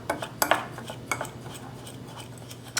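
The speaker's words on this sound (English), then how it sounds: "Now I'm just gonna mix this all together, make sure it's well combined." A utensil stirring a dry spice mixture with allspice in a bowl, giving light scraping and a few sharp clinks against the bowl in an uneven rhythm, close and moderate in level, with no speech.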